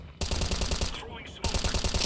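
Rapid automatic gunfire in Counter-Strike, loud close bursts of shots with a brief pause in the middle before firing resumes.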